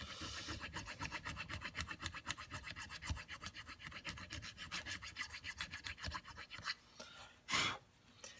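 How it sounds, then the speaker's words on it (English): A fine metal file rubs along guitar frets on a fretboard in quick, even rasping strokes, close and soft, ending with a few louder scrapes and handling bumps; no speech. "So what happens is this file, once you start getting it flush, it'll start riding smooth across this whole fretboard"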